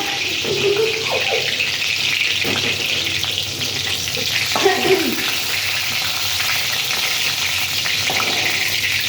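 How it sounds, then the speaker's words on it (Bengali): Pointed gourd frying in a pan, a steady close sizzle with occasional stirring scrapes, continuous for several seconds with no talking. "বন্ধুরা পটলটা ভাজা হয়ে গেছে"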